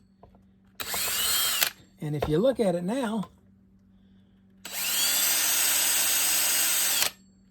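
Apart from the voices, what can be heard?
drill spinning a fishing reel spool at high speed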